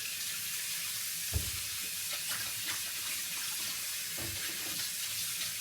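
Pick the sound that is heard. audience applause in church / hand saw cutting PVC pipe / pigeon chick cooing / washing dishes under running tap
washing dishes under running tap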